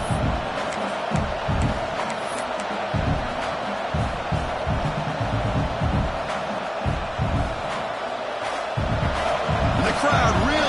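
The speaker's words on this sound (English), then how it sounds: "the crowd really making some noise now, trying to help out this defense to get this stop near the goal line" A stadium crowd at a college football playoff game roars steadily through a tense goal-line stand, with dense, sustained cheering and bursts of louder shouts. The noise stays loud and continuous from start to finish.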